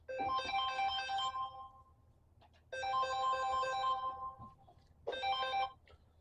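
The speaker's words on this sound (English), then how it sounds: "my phone rang and I had to answer it" A mobile phone ringtone plays in three loud, melodic bursts of roughly two seconds each, with brief quiet gaps between them, alone and without any talk.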